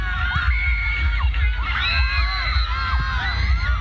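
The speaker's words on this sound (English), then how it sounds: "The audience though are very loud today." A loud football crowd at a Hmong New Year celebration in Phonsavan shouts and cheers continuously, with high-pitched whoops and children's yells rising over a dense, steady roar.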